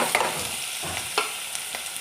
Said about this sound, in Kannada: ಎಣ್ಣೆ ಬಿಸಿಯಾದಾಗ ಈ ಈರುಳ್ಳಿಯನ್ನು ಹಾಕಿದ್ದೇನೆ